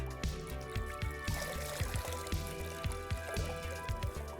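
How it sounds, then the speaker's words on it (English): A car wash mitt is dipped into a dirty rinse bucket, close sloshing and trickling water with repeated small splashes and drips as it moves through the water. "Dip it into my rinse bucket, which is gross."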